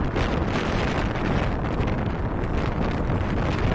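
Wind on a windy day batters the microphone in a loud, continuous roar with broad rushing buffeting that barely lets up, then cuts off abruptly at the end.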